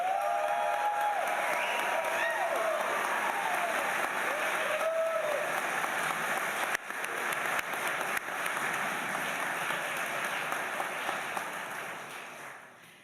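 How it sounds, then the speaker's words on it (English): Applause from an audience at a university education graduation ceremony, a broad continuous patter of many hands heard from a distance, steady for most of the stretch and then tapering off at the end. "let's start out with a rousing round of applause for them"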